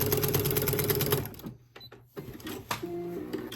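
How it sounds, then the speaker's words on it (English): Sewing machine running a straight stitch along the edges of a dish drying mat, a fast close mechanical whir that stops after about a second and a half, then short stuttering bursts of stitching. "sew along this top edge and this bottom edge with just a regular straight stitch"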